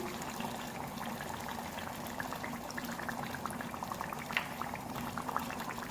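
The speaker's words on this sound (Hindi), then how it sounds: "दही डालने के बाद मिक्स करेंगे और मीडियम फ्लेम पर चिकन को हम भूनेंगे।" Chicken karahi with a cup of yogurt stirred in, simmering and frying on a medium flame, gives a steady bubbling, sizzling hiss with small pops scattered throughout, close and continuous with no talking.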